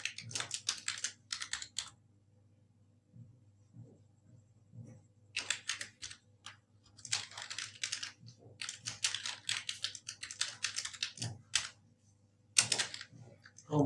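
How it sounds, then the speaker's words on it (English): Typing on a computer keyboard, bursts of quick close key clicks separated by short pauses, steady and clear with no talk over them. "and then I will type"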